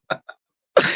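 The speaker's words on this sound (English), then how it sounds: "I'm just coughing." A man coughs alone, two short light coughs followed by a louder, harsher cough that trails off, all close to the microphone.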